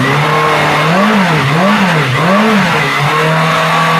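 A Yamaha FCR600 motorcycle engine with a suspected faulty voltage regulator, idling loud and close, then revved in three quick rising-and-falling blips before settling back to a steady idle.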